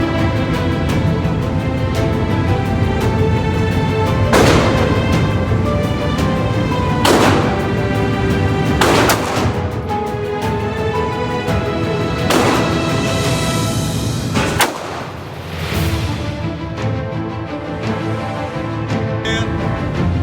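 A handgun is fired repeatedly at a concealed-carry training range until the magazine empties. Loud, sharp reports land at irregular intervals over a constant roaring background, with other shots and noise from the range around them.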